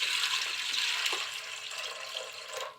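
Water poured into a heated cooking pot before sago is added, a steady broadband splashing pour that runs for the whole clip, close and fairly loud, with no talking.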